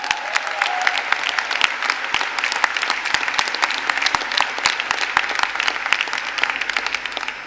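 An audience at the WCIT 2019 closing ceremony gives sustained, dense applause with sharp individual claps standing out. The clapping stays steady and fairly loud throughout, with no speech over it.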